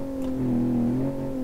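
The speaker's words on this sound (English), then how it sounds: "I'm gonna just put it in the first gear. So that I can keep some high RPMs." Simulated car engine in BeamNG.drive held at high RPM in first gear, a steady loud drone with strong harmonics that rises slightly and holds, close and alone without talk.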